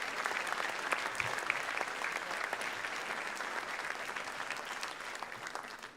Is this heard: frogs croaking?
no